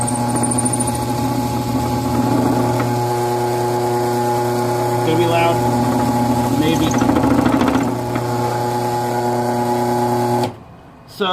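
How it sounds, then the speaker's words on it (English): A struggling electric motor on a Harbor Freight lathe drones steadily and loudly with a strained, buzzing hum for about ten seconds before abruptly cutting out. "that is the sound of my motor struggling"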